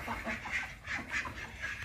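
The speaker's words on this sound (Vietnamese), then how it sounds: "vịt quá trời luôn" Ducks quacking repeatedly at a garden farmhouse in Củ Chi, several overlapping calls at moderate distance in a steady, busy rhythm with no speech.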